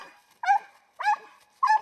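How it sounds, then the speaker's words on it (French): A puppy gives three sharp, evenly spaced barks, close and clear, during firefighter search and rescue dog training outdoors. "Tu essayes d'avoir une dizaine d'aboiements et puis tu la ramènes."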